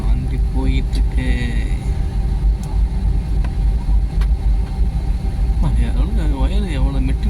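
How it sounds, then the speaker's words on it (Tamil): A vehicle engine runs steadily while driving, a constant low rumble with road noise under people talking throughout. "வண்டி போயிட்டுருக்கு."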